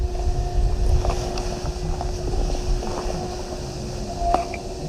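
A 2018 Triumph Street Scrambler motorcycle being ridden, a steady low engine drone blended with heavy wind buffeting on the microphone, fairly quiet overall with no talk.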